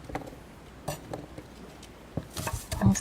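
Knife slicing green onion thinly on a board for kimchi, a handful of sparse soft taps and chops, close and fairly quiet, growing denser near the end.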